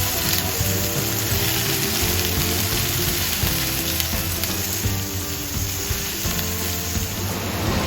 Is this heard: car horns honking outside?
no